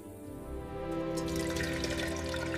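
Oil being poured makes a steady, close stream of liquid that builds and fills out after a quiet start, continuing without any talk.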